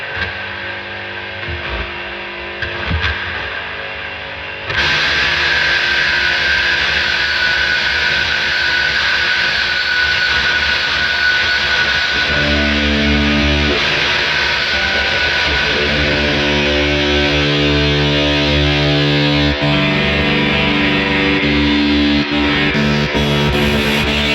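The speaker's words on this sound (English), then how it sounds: "Let's start adding some pedals. The fuzz. Audi. Okay, getting noisy." Electric guitar through a fuzz pedal and effects chain, a quiet, sparse start that jumps abruptly into a loud, sustained wall of buzzing, noisy distortion with ringing tones layered underneath.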